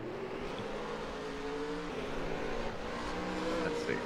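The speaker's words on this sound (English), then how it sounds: "I want to hear the cars go by" Race car engines drone steadily at moderate volume on a road course in Nascar Racing 2003, a continuous whine with shifting pitch as the cars run past.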